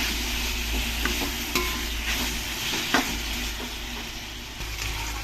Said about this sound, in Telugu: ముందుగా కలిపి పెట్టుకున్న చికెన్ వేసుకొని ఒక 5 మినిట్స్ మీడియం ఫ్లేమ్లో పెట్టుకోవాలి.